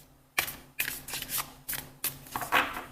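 Tarot deck being shuffled by hand, a series of crisp riffling bursts in quick uneven rhythm, close and clear with no talking.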